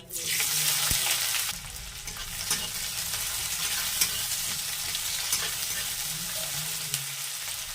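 Chopped onion hits hot oil spiced with five-spice seeds in a wok, setting off a loud burst of sizzling that settles into a steady, close frying hiss with light stirring.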